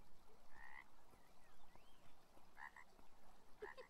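In the adventure game Beyond Eyes, a frog croaks a few short, bright calls in a quiet outdoor soundscape. The calls are spread out and sit over a low steady ambient hiss, with no talking.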